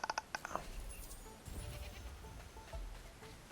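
A goat in the video game Goat Simulator 3 bleats in a few quick, nasal bursts at the start, followed by faint background game ambience.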